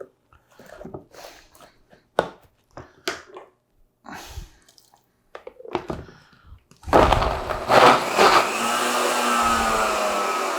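A blender whirs loudly and continuously through a sweet slush drink being made for a children's party, after a series of scattered kitchen clunks and taps.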